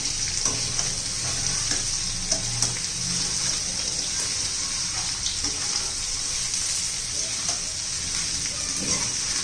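Ridge gourd frying in garlic and oil in a pan over medium heat, a strong continuous sizzle with bright hiss and occasional stirring scrapes, close and loud, no voices.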